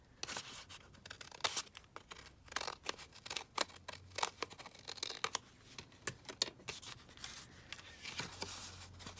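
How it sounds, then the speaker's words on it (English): Scissors trim paper for a double pocket policy envelope in a papercraft workshop, producing irregular close snips and rustling paper scrapes at a fairly quiet level with no talking. "So now I'm just going to trim it down."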